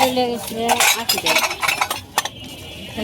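Single-colour Shinepukur ceramic plates are handled by a seller at a busy traditional fair in Dhaka. They give close, bright clinks and knocks in quick bursts, with a voice briefly heard at the start.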